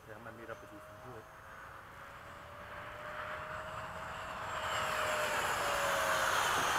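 A remote-control Eflite F-16 model jet passes over a runway, its whining ducted-fan tone rising from faint to loud and rushing as it approaches, while voices talk nearby.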